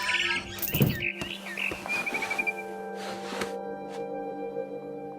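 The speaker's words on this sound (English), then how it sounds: "It was a barn swallow going back to her nest." Barn swallow calls in the game What Remains of Edith Finch: several bright, quick chirps and twitters close by over a faint ambient hum, with a soft rustle before the calls begin.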